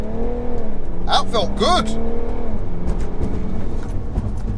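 A 370bhp BMW 335d launches hard off a brake-boost start, its engine note climbing through rising revs and a gear change, close and loud, with people talking over it inside the car.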